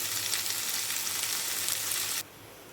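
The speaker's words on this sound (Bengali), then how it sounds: "এবার ভেজে রাখা চিংড়ি মাছটা দিয়ে নিলাম অল্প একটু চিংড়ি মাছটা কষিয়ে নেব ওল আর আলুর সাথে" Prawns sautéing with elephant foot yam and potato in a pan give a loud, steady, close sizzle that drops off suddenly near the end.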